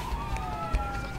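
Police siren in A Way Out, a steady wailing tone slowly gliding in pitch over a low engine-like rumble, heard alone at moderate distance.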